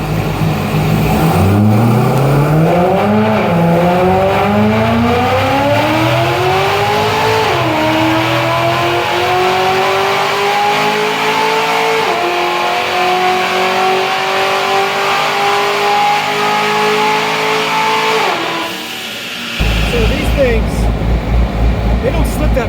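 The engine of a supercharged base-model C6 Corvette revs hard and climbs through several gear shifts, loud and sustained, with each upshift dropping the pitch before it rises again, ending in a brief cut and a rough idle.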